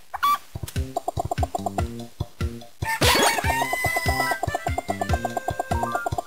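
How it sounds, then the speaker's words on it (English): Short, rhythmic clucks and squawks from a cartoon chicken in The Legendary Starfy, repeated in quick bursts, with a louder jingling flourish in the middle before the clucking resumes. "Hey, a chicken."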